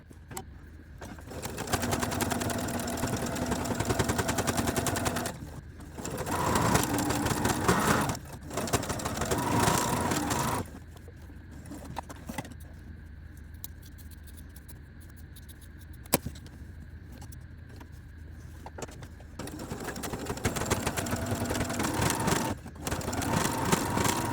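A sewing machine stitching fabric for a bow, running in steady whirring bursts of several seconds each, stopping and starting again with quiet handling noises and a small click in the pauses.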